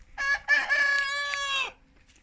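A single rooster crows a long, loud cock-a-doodle-doo, close by in a village, with a short break near the start, then quiet.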